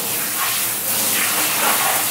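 Warm water sprays in a steady hiss while a dog is bathed indoors, rushing continuously and close with slight swells in strength, no voices over it.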